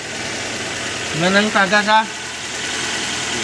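A car engine idles steadily after a power steering rack oil seal repair, with a low even rumble close by while someone speaks briefly over it.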